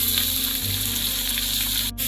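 Onions dropped into a hot pan of whole spices for a spicy duck roast, giving a steady close sizzle and frying hiss that continues throughout the short moment.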